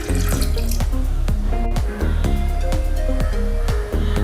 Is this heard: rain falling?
no